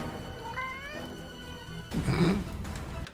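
Cat meowing in a video game, a drawn-out wavering meow followed by a louder, harsher caterwaul near the end, heard over a low game background with no talking.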